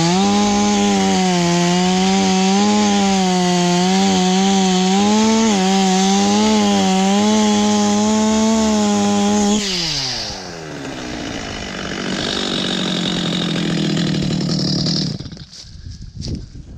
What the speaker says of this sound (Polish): Jeszcze o tę jedną małą, wąską olchę zetnę.